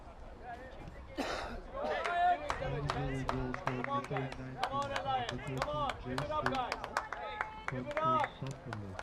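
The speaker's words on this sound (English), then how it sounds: "the home crowd for Alliance trying to urge them on here" A home crowd urges on Alliance United FC against Vaughan Azzurri at a League1 Ontario soccer match, with voices chanting in tune over a steady run of sharp claps or drum beats that continue throughout.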